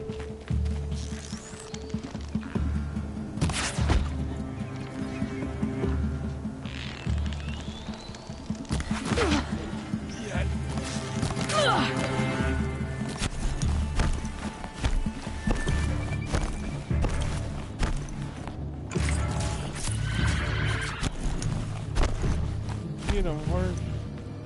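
A horse in the video game Horizon Zero Dawn whinnies and its hooves clop along under game effects. A player talks over much of it.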